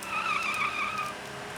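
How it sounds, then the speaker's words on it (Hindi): A car skids to a halt on a road with a sustained, fairly loud tire squeal that fades out after about a second, heard alone without talk. "अरे गाड़ी आ रही है।"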